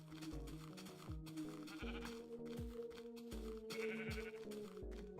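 In the Minecraft Indev survival game, sheep give a string of short bleats at a moderate distance, mixed with rhythmic low thuds and other game noise across about five seconds, and nobody speaks.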